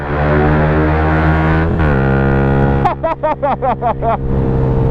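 A loud Yamaha YZF-R 125 four-stroke motorcycle engine idles with a steady drone, then revs up in a series of sharp, rising bursts, about six throttle blips in quick succession.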